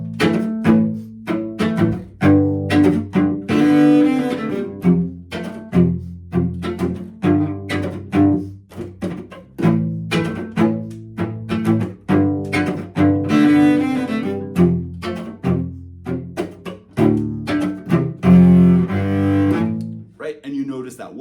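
A cello plays chop and groove backup for the Knockdhu Reel, percussive scratchy bow chops alternating with short pitched chord notes in a driving reel rhythm, close and loud.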